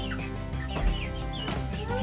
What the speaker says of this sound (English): Oh, is that a chicken?